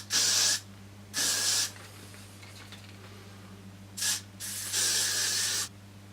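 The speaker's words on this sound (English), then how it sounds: "you can literally just finish it off with a bit of hairspray." Got To Be Glued hairspray from a yellow aerosol can misted onto styled hair in four sharp, loud hissing bursts, two short and two longer, separated by quiet gaps.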